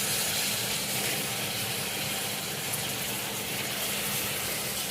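Field beans and cut potato tipped into a fried tomato masala, giving a steady soft sizzling hiss that stays even and fairly quiet throughout with no talk.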